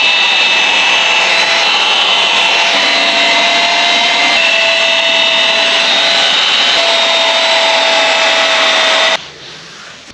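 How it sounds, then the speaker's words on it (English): Loud steady whine of an electric sander or polisher working on a 1972 K5 Blazer, running continuously for several seconds, then cutting off abruptly near the end. "A little sanding and a little polishing."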